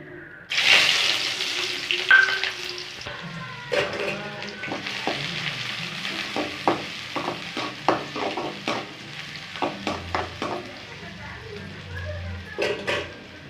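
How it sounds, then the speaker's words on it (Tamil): Chopped onions hit hot oil with a sharp sizzle for a vegetable soup, then keep frying under repeated scraping and clacking strokes of a spoon stirring in the pan, close and fairly loud. "எண்ணெய் காஞ்சிருச்சு இப்போ வெங்காயம் போட்டுக்கலாம்"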